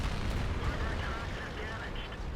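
A tank gun firing in a tank combat video game: a loud, dense booming blast with rumbling low end that fills the whole moment, with a steady roar of battle noise and no clear quiet gaps.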